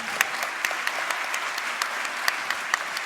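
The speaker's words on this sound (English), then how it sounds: "One more round of applause for Mark here, yeah?" Concert audience clapping for a local composer named Mark at an America the Beautiful concert, a steady dense ovation with sharp individual claps standing out, sustained and fairly close throughout with no talking.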